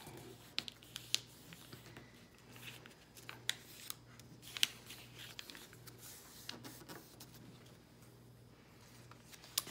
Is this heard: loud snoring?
no